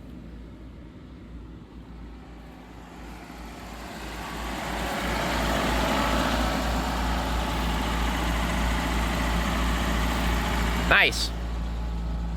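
A 1984 Dodge Mini Ram, parked for 25 years, idles with a steady low engine hum while the cabin heater fan blows and swells louder midway. A brief remark is spoken quietly near the end.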